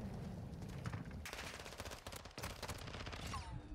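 Faint rapid gunfire from a Modern Warfare 2 one-on-one gunfight, with dense bursts of automatic shots throughout a short quiet exchange.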